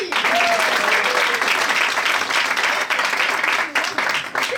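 An audience at a children's musical show applauds warmly, a loud steady round of clapping that tapers slightly toward the end.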